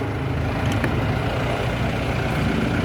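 2015 Ford Kuga with a 4-cylinder 1.5 litre turbo petrol engine running at idle, a steady, fairly loud rumbling drone heard close up with no talking.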